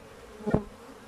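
Honeybees buzz around a hive from a purchased swarm in its third year, a steady close drone with one louder pass as a bee flies near the microphone, no voices.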